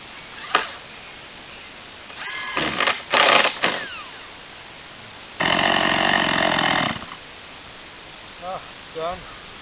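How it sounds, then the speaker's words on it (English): A chainsaw cuts a live edge decking profile in short bursts: a few quick revs, then one longer sustained cut, with pauses between and small sputters near the end. "It is possible to cut that fine with a chainsaw."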